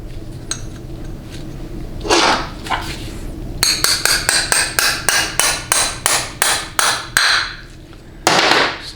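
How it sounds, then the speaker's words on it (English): A steel hammer taps the accumulator pin into a 1988-1992 GM 700R4 transmission valve body: about a dozen quick, evenly spaced metallic taps close up, with a few scrapes and clinks of handled parts before and after. "now I'm going to go ahead and tap in the pin for the accumulator"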